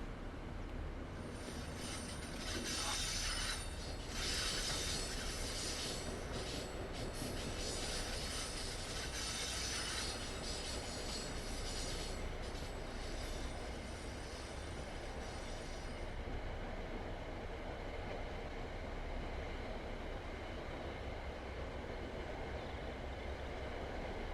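A locomotive-hauled train runs along the metro loop, a loud, continuous rolling rumble of wheels on rail with high metallic squealing through the first part, heard close and steady with no voices.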